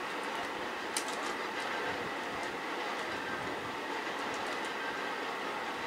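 A train moves along in a video game, a steady rumbling rail noise with faint clicking running evenly throughout, with no voices over it.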